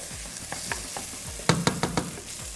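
Beans sautéed with chili flakes and black pepper in a pan, a close, steady sizzle broken by repeated spoon scrapes and a quick run of four sharp stirring knocks partway through.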